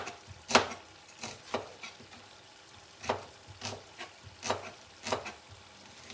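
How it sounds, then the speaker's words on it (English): A knife chops a fresh onion on a board with about nine sharp, close cuts in an uneven rhythm, and a faint sizzle runs beneath them in a kitchen making coconut milk snapper curry. "I'm gonna cut up a fresh onion"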